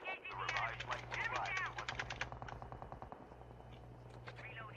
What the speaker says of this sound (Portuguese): tem gente atirando